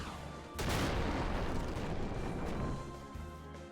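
A loud explosion roars through a city battle in Final Fantasy XI, starting abruptly and rumbling on as a dense, sustained blast for about two and a half seconds before cutting off. Nobody speaks.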